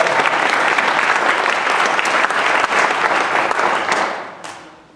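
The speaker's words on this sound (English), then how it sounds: "I'd like you all to give them a round of applause" A church congregation gives a round of applause, a loud, full burst of clapping that stays steady for about four seconds and then fades away.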